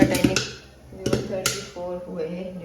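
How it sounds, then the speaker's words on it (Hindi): Popcorn popping in a pan during home cooking, with a few sharp, scattered pops close by under a voice. "यहाँ पे मैं अभी बना रही हूँ ओम के लिए पॉपकॉर्न।"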